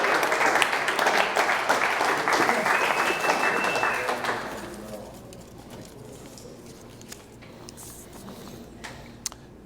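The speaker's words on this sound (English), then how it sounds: "Round of applause." Audience applause at a company all-team update meeting, a steady round of clapping for about four and a half seconds, then dropping to quieter room sound with a few isolated claps.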